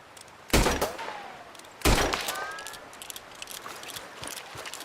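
Two loud gunshots ring out in Red Dead Redemption II, spaced over a second apart, each a sharp crack trailing into a reverberant echo, followed by scattered faint clicks and rustles with no voices.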